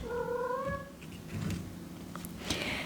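A hungry cat meows clearly, one long drawn-out call near the start, followed by a quieter shorter cry and a faint chirp toward the end, close by in a quiet room.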